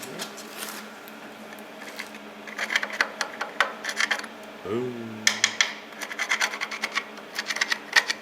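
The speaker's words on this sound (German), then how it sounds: "Eine kleine Feile." Small hand file rasping across cast iron in a workshop, a series of short, rough scraping strokes at close range with a brief voice interjection partway through.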